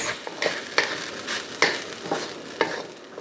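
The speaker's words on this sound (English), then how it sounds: "Add about 2 tablespoons of soy sauce." Crab fried rice sizzles in a hot pan after soy sauce goes in, with a steady frying hiss and about six rhythmic scraping stir strokes, close and moderately loud.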